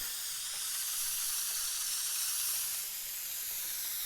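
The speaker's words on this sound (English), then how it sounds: "I'm going to spray it" A spray can hisses in the game Teardown, one long steady airy hiss lasting several seconds that swells slightly and then eases off.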